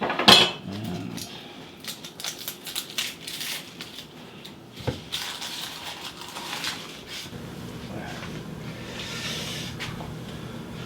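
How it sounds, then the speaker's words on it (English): A knife slices and cuts through a peeled onion on a board, with a sharp knock at the start and then steady crisp crunching and light tapping strokes, close and without talk. "I'm cutting across those lines in half and then slicing it, so that the slices are not too long"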